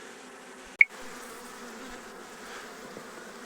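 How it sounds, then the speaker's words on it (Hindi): A swarm of honeybees leaves the hive and climbs upward, filling the air with a steady, close droning buzz, broken once by a sharp tap. "तो यहाँ से मधुमक्खियाँ अब निकल रही है, ऊपर आ रही है।"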